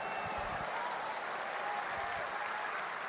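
A church congregation applauds during a worship service at a prophetic conference, a continuous, even roar of clapping that stays steady without pause, with faint voices mixed beneath.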